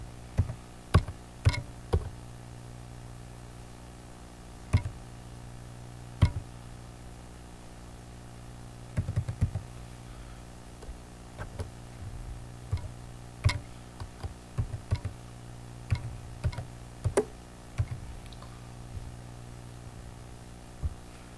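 Keys on a computer keyboard tap while login details are entered, irregular sparse clicks in short bursts over a steady low electrical hum, close and fairly quiet.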